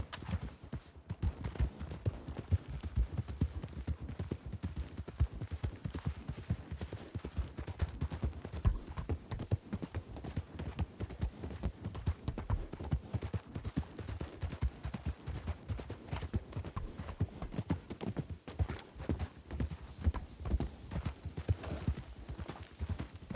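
Horse hooves galloping in the video game RedM, a rapid, steady clip-clop rhythm of hoofbeats running without pause at moderate volume, with occasional faint mechanical rattles.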